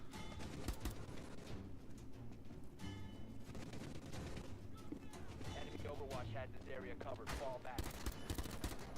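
Rapid bursts of automatic gunfire crackle repeatedly amid busy game sounds, with a voice talking underneath at times.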